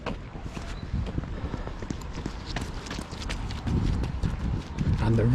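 Footsteps of a runner passing outdoors on a sound walk: steady rhythmic thuds close by, growing louder toward the end, under speech and outdoor background noise.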